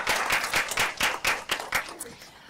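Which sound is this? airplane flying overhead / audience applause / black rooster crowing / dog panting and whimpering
audience applause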